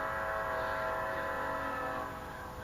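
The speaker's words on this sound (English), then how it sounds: "You can hear the train in the background there." A train passes at a distance behind a yard, giving a steady, continuous rumble with a faint sustained horn-like tone that softens slightly toward the end.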